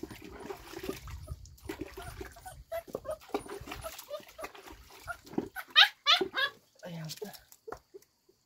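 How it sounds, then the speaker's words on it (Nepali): A puppy being bathed with warm water, with splashing and dribbling water mixed with the dog's soft whimpers and squeals, while people talk nearby throughout. "तातो पानीले नुहाइदिइरहेको छु"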